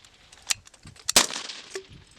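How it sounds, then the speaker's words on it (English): An M240G medium machine gun fires during a U.S. Marine and Australian Army live-fire assault. A handful of sharp, separate reports crack out at a distance, with one heavier burst of shots in the middle. "Fire from a medium machine gun!"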